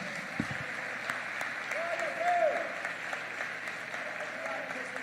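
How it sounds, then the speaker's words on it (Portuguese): Church congregation applauding, a steady, fairly distant wash of clapping throughout with a voice briefly speaking over it. "Aplauda o Senhor"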